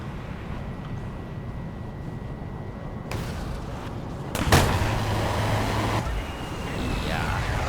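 Missile launch from an F-16C in War Thunder air realistic battles: a steady cockpit and engine drone is broken by a sudden burst and a sharp whoosh that roars on for a couple of seconds before easing back to the drone.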